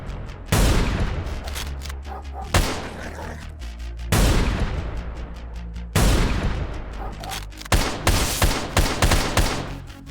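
Enemy gunfire in the shooter game Hunter: Brotherhood, church level finale: loud bursts of shots and booming impacts arriving in several distinct volleys, each decaying with a long echoing tail.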